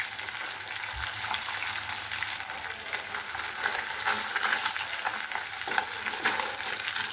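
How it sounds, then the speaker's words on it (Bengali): Rohu fish fries in oil in a pan, being made crisp for bharta, producing a continuous close sizzle with occasional light stirring and spatter, no voices. "ভর্তা বানানোর জন্য রুই মাছটা ভালোভাবে ভেজে নিতে হয়"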